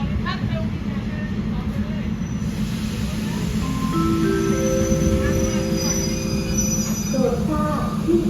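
A train pulls into Mahachai station with its wheels squealing on the rails, producing loud shrill tones that rise and hold over a heavy rumbling roll, while a station announcement plays over it.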